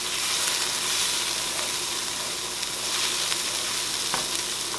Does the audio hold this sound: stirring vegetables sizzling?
yes